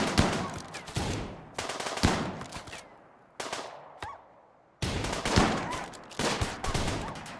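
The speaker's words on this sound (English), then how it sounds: "I saw you just shoot your teammate in the back a couple of times." Bursts of rapid gunshots ring out in the video game RimWorld, loud and close, coming in several short volleys separated by brief gaps of near silence.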